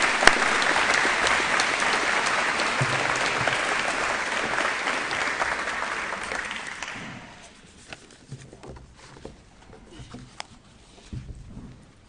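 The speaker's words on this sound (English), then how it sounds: "Please help me give her a round of applause to Emily when she gets done with her last picture" Audience applause at a 2022 senior awards day for a student award recipient: dense, full applause fills the room for about seven seconds, then thins to a few scattered claps.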